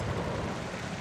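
Steady rain in Days Gone, a dense even hiss of drops falling in a sunshower, continuous and moderately loud with no pauses.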